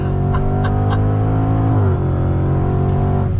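Range Rover Velar SVAutobiography Dynamic Edition accelerating on throttle, its engine droning loudly and steadily close by with rising harmonic tones, then dipping briefly at a gear change before pulling on.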